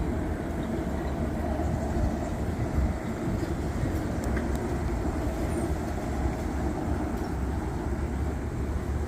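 Amtrak train rolling past Harrison station, a steady, loud rumble of wheels and cars that holds evenly throughout without any voices.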